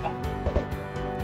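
Chicken clucking in Minecraft, a few short close clucks over steady game background sound.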